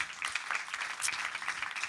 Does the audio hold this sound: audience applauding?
yes